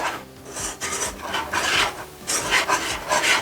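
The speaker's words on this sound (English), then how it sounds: "Now we're going to throw in our flour. I'm going to whisk this up real good." Flour being whisked into a mixture in a pan, a steady run of close, scraping strokes with short pauses between bursts.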